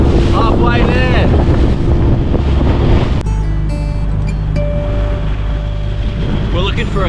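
A small 3.5 metre riverboat motors through choppy coastal swell, with a loud continuous engine drone, splashing water and heavy wind buffeting the microphone.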